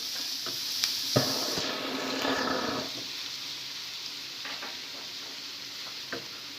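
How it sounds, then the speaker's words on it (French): Minced meat sizzles steadily in a hot pan as it is stirred, with scraping strokes and a few sharp clicks of the utensil against the pan, close and alone with no talking. "on va ajouter de la viande hachée. Et on mélange le tout."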